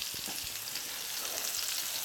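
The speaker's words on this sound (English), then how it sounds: "Nice heat going. Nice sizzling. Look at that onion." Onion sizzles in a hot frying pan, a steady, close crackling fry with small pops throughout, no voices.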